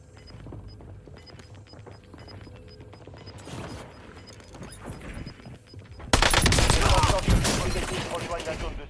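Gunfire during a Warzone battle royale match, scattered shots and bursts that build into a loud, dense volley of rapid fire in the second half, with voices heard amid the shooting.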